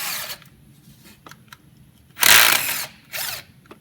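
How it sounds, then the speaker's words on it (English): A power tool spins out 8mm valve cover bolts on a Silverado, Tahoe, Sierra or Yukon engine in two short, loud whirring bursts separated by a brief pause, with faint clicks and quiet shop background before them. "remove these 4 8mm"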